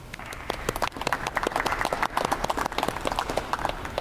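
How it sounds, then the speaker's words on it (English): Scattered applause from a modest audience at a university commencement ceremony honoring the regents, a steady patter of individual claps lasting a few seconds at moderate volume. "please join me in a nice round of applause recognizing our regents"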